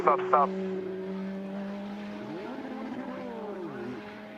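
Race cars at Laguna Seca raceway pass on the track, a sustained engine drone with rising and falling pitch sweeps as cars go by at moderate distance, preceded by a couple of brief sharp bursts at the start.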